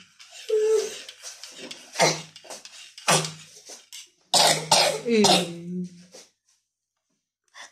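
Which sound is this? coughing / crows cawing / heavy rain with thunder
coughing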